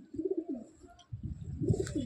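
Madrasi/Andhra pigeons in a loft at Sodhpur give low, throaty coos in two close rolling bouts, near and fairly clear, with no talk over them.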